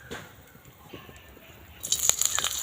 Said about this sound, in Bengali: এবার ওই তেলেতেই আমি কাঁচা লঙ্কা ফোড়ন দিয়ে দিচ্ছি